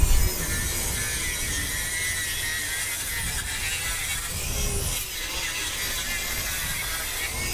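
A corded circular saw cuts steadily through a wooden board on a horseback riding bridge outdoors, a continuous close whining rasp that holds level for several seconds.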